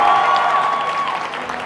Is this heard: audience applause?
yes